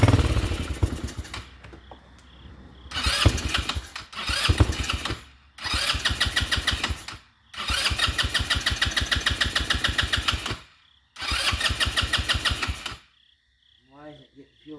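Pit bike engine being cranked and catching in bursts, with several rough runs of a few seconds each cut by pauses, loud and close, then going quiet at the end.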